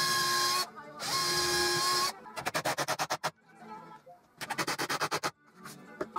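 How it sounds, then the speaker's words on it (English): A power driver sets screws into an oak bedside table shelf, with a long steady whirring burst, a short pause, another long run, then loud rapid clattering pulses in two clusters, close and alone. "And I'll add a couple of screws."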